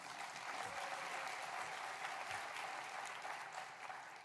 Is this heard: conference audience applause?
yes